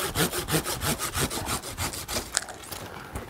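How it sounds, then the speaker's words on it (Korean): Steady back-and-forth hand sawing through a tree branch, rhythmic strokes about three per second, close and loud, ending with a small crack of splintering. "그래서 톱질을 좀 한번 더 할게요."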